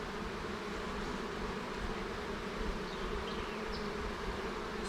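Honey bees swarm around an open hive during queen grafting, a soft, continuous hum of many insects buzzing close by with no speech.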